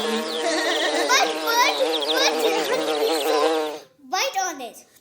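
A voice imitates a honeybee with a long, wavering buzzing hum, close and fairly loud, then breaks off briefly before a shorter buzzing burst.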